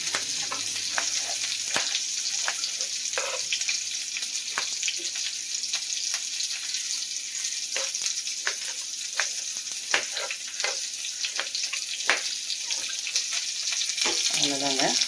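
Ridge gourd sautéing in a pan for a chutney, giving a steady close sizzle with scattered light clicks and stirring scrapes throughout, and no clear talk.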